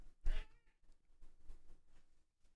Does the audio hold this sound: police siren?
no